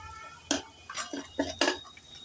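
Chopped tomatoes and onions being stirred in a pan for a brinjal potato curry, heard as a few sharp clanks and scrapes of a spatula against the pan in quick succession, close and without talk.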